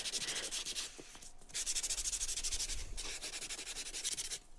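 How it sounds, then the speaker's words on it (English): Rapid rhythmic scratchy strokes of sanding glitter off a wood round, close and loud, in bursts separated by brief pauses. "I'm sanding some of the glitter off here."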